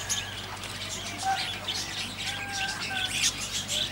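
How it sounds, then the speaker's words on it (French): A budgerigar chirps and warbles in a park among other birds, with scattered high tweets and short whistled calls over a constant low background hum. "Il y a la perruche ondulée."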